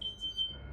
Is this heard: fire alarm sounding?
yes